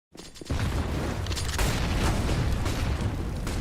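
A flashbang grenade goes off during a Counter-Strike: Global Offensive pro match on an A-site attack, a loud sustained burst with booming, crackling game noise that rises sharply at the start and stays dense throughout.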